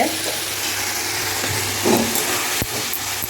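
Masala of tomato, salt, turmeric, cumin, coriander and Kashmiri chilli powder fries in a pan, a constant close sizzle with a few stirring scrapes and a sharp knock near the end, no talking.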